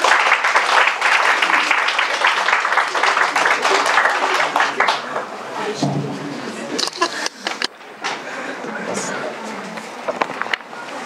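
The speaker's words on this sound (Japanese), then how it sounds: "どうぞ拍手を持って、" Church congregation applauding to welcome a guest speaker, loud, dense clapping that thins and fades after about five seconds, with a few scattered claps and some talk following.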